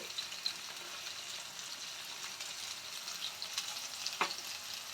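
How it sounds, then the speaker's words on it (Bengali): Potatoes seasoned with salt and turmeric fry in a pan, giving a steady, close sizzle with a few brief stirring scrapes and no talking. "আলুগুলো আমরা লাল লাল করে ভেজে নেব"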